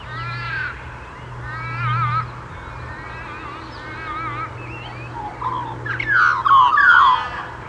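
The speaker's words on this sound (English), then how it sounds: "The grey butcherbird is another member of the corvid family with skillful vocalisations and song." Grey butcherbird calling at a Western Australian urban lake, a series of clear warbling, fluting phrases repeated several times, rising into louder, richer notes near the end over a low steady background hum.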